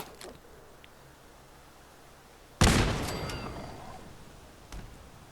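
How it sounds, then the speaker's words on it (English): A grenade blast in Fallout 4 erupts suddenly mid-clip as one loud, broad burst, then decays over a couple of seconds, with a fainter thud shortly after and quiet ambient noise before it. "And if we're lucky, our grenade will get them all."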